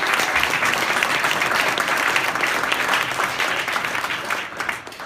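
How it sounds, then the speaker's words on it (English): Sustained audience applause for a panel of farmers at a community food and agriculture event, a dense even wash of clapping from many hands that thins slightly near the end. "A round of applause for them."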